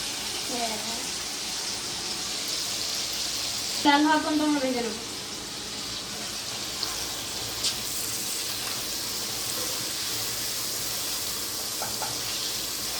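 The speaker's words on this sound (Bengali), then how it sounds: "তাহলে জয় লাল লাল করে ভেজে নিক আলু" Potatoes frying in oil for a country chicken curry, a steady hiss of sizzling throughout, with someone talking briefly over it near the start and around four seconds.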